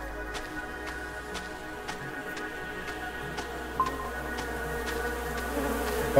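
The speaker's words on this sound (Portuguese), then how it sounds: "Ih, agora tem mosquito, hein?" A mosquito buzzes in the survival game Starsand, a steady, fairly faint insect drone running throughout, with soft regular ticks beneath and no talking.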